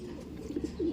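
A pigeon coos softly in a loft, a couple of short low hoots near the end, fairly faint over a quiet background.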